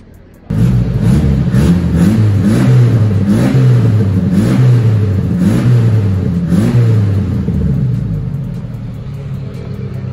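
An owner-type jeep from Lemery, Batangas, fitted with a custom muffler, starts up and revs in loud, rhythmic swells of deep, throaty rumble close by, then settles into a steady idle with no talk.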